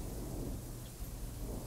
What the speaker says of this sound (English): It was followed by a booming thunder so loud I felt my heart jump in my chest.